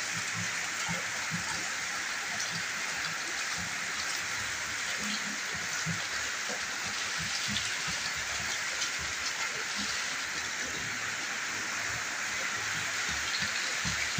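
Steady rain falls by a mosque's drainage channel where a blocked, walled outlet leaves water pooling, giving a constant broad hiss with faint low patter throughout.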